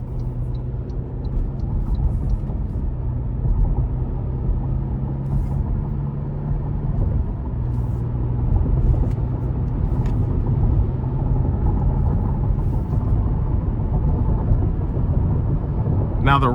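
Steady low road rumble and engine drone inside a 2024 Toyota Tacoma SR Double Cab pickup cruising on the interstate, continuous and fairly loud throughout, with a few faint clicks on top.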